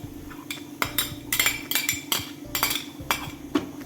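Whole spices, nuts and cardamom, including fennel, almonds and cashews, are tipped into ghee in a metal pan while a spoon clinks against it. The result is a quick series of close, bright metallic knocks and scrapes, with no talking.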